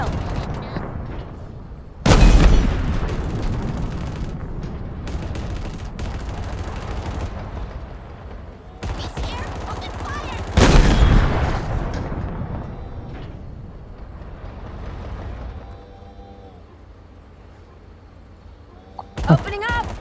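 Gunfire in Halo Infinite: two heavy, loud blasts some eight seconds apart with rattling automatic fire after each, fading into quieter battle noise and ending with a final sharp shot, while a voice talks intermittently.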